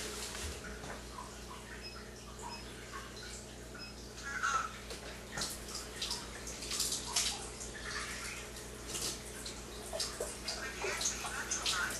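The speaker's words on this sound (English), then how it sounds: "let's do it the same at the full water flow" Water from a Chanson VS-70 under-counter water ionizer gushes at full flow, a steady hissing splash into a container with a few faint clinks, continuous and close.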